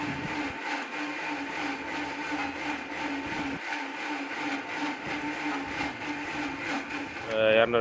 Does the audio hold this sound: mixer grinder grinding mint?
yes